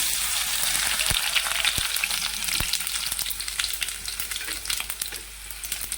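Ground coriander seeds, cumin and garlic with curry leaves frying in hot oil: a steady, loud close crackling sizzle with a few sharp pops throughout, no voices.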